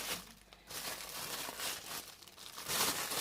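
A plastic bag crinkles and rustles close up in irregular bursts while being wrapped around Thai fermented pork (nham), with no talking.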